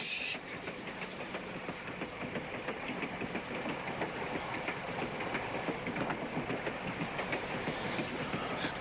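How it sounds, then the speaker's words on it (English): A train rolls steadily along the rails with continuous rumbling and rhythmic clickety-clack, heard from inside, with no talking. "Jackson, I wonder if you could find me another compartment on this train."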